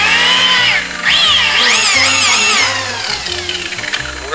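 Rotary buffer polishing the paint of a 1970 AMC Javelin with buffing compound, a loud close whine that shifts pitch up and down as the pad loads and the speed changes.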